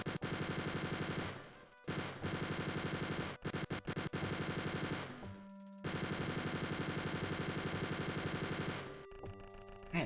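Rapid machine-gun fire in the Wolfenstein 3D video game, dense repeating bursts that run for several seconds, break off briefly, then resume, loud and close with no talking.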